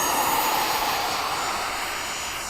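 Large Habu model jet flying at an RC airfield in stormy wind, a steady high-pitched turbine whine with a broad rushing roar that fades slightly as it passes.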